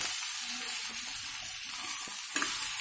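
Boiled then fried potato pieces stirred in a hot pan for Andhra puri curry, giving a steady close sizzle with soft scraping strokes throughout and no talking.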